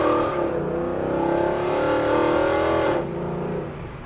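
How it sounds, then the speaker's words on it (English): A 1955 Ford F100 restomod pickup with a Coyote V8 accelerates at half throttle, a loud rising engine roar heard from inside the cab that climbs steadily for about three seconds, then eases off. "That's literally like half throttle, guys, and it was trying to break the tires loose."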